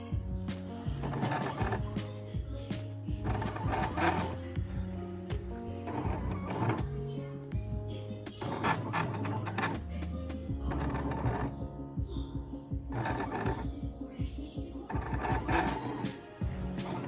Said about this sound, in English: So this is me cutting the actual design out on some glitter vinyl and some black regular vinyl.